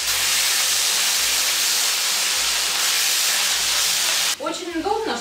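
Pork in sauce heats in a pan, giving a loud, steady sizzling hiss that suddenly cuts off near the end, followed by brief clattering.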